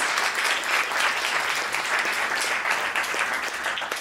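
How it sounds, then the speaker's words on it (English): Loud audience applause closing an evening panel discussion on cannabis culture, dense and continuous clapping from a crowd that holds steady for several seconds with no talking over it. "round of applause for all of these guys"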